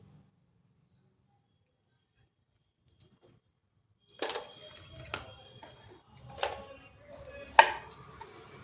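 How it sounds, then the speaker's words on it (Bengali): Onion cut with a knife on a board while preparing a green banana kofta masala, a few sparse, close chops after a quiet stretch, with soft handling noises between. "একটা পেঁয়াজ কেটে নেব, আর একটা পেঁয়াজ গ্রেট করে নেব।"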